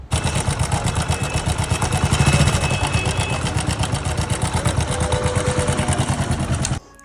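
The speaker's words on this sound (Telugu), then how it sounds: "ఈ బైక్ వచ్చి హెచ్ఎఫ్ డిలాక్స్ ఈ బైక్ సౌండ్ అయితే వినండి మీరు" A Hero HF Deluxe motorcycle engine with a running noise problem idles close by with a steady rapid putter and faint mechanical clatter, then cuts off near the end.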